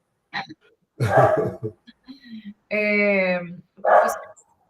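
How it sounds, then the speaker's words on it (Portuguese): A dog barks a few times during an online lecture, close and fairly loud, with short sharp yaps and a drawn-out whine-like bark, no talking. "O seu cachorro latiu aí"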